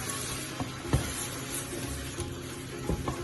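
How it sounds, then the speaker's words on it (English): Chopped tomatoes stirred into a sizzling lamb ragu in a hot pan, a steady close fry with a few knocks of the spoon scraping through the sauce. "Add in the chopped tomatoes. Give it a good stir."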